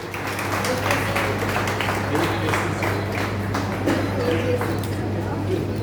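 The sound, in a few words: audience applause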